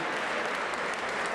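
Steady crowd applause after the points verdict in a middleweight boxing final at the Hesse championship, a dense, even patter of many hands, no voices.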